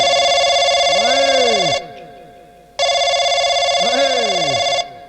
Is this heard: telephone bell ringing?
yes